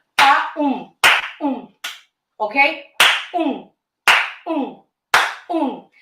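Sharp hand claps ring out alone in a syncopated pattern, single and doubled hits with short pauses between, close and crisp, as a clapping accent for music; one brief spoken word is heard.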